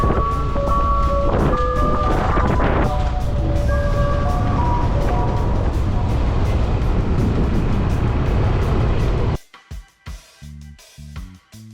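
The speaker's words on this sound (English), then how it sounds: "Ice cream truck there." Ice cream truck jingle plays as melodic tones over a running vehicle engine outdoors near a river, fairly loud and steady, then the scene cuts abruptly to quieter sporadic noise.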